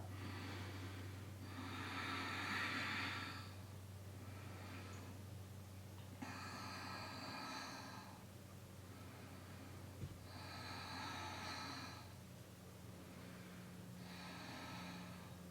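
Four strong, forceful exhales during a yoga pose, breathy rushes of air repeating about every four seconds, close but faint over a low steady hum.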